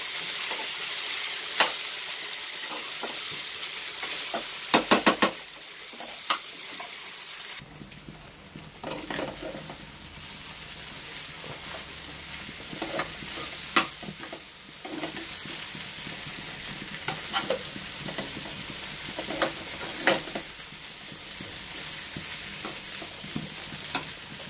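Native plantain pieces are stirred and sautéed in a frying pan, with a soft steady sizzle under repeated scraping and clattering spoon strokes, close and fairly quiet throughout with no talking.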